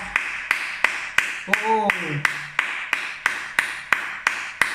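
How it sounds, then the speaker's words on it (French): Rhythmic, evenly spaced claps during a French worship song praising the king of glory, crisp and steady at a brisk tempo, with a brief sung or spoken voice partway through. "J'applaudis le roi de gloire."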